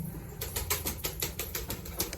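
Pigeons flap their wings in a rapid series of soft, fluttering beats with a faint rumble underneath.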